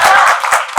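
Brief burst of audience clapping at a live talk event in Korea, loud and close, fading into a few scattered claps within a second.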